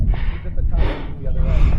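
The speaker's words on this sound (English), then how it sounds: "I am breathing harder now because we're about to walk almost vertical here, right up the sand." Heavy, rapid breathing and gasps from someone climbing a steep slope of sand at the Great Sand Dunes in Colorado, close and loud, in uneven bursts of effortful inhales and exhales.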